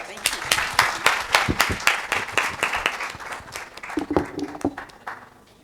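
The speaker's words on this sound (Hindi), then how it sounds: "Big hand for doctor Shazia." An audience applauds after a live dental demonstration of a restorative material, with sharp individual claps that are close and loud at first, then thin out and fade, while a voice briefly talks near the end.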